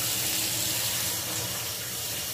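Cold water runs steadily from a Kohler shower faucet, a loud continuous broadband hiss and splash with no pauses or voices.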